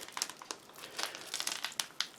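A 2004 British Army ration pack of cream of chicken soup is handled up close. The tough plastic packaging gives bursts of sharp, irregular crinkling and crackling, with no talking.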